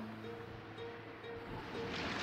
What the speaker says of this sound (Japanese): おまけに冷えた風まで出てきて海は荒れ始めやがって